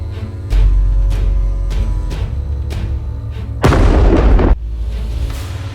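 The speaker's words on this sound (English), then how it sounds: "It moves toward Russian positions and delivers a precise strike." An Abrams tank strikes Russian positions in a Donbass combat scene: deep, heavy booms repeat close and loud, then a sharp, powerful blast bursts out for about a second before the low rumble resumes.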